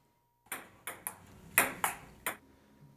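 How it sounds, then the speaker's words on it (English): A ping pong ball is struck six times in quick, uneven succession, each hit a sharp, bright click heard nearby in an indoor office rec area. "Anyone up for ping pong?"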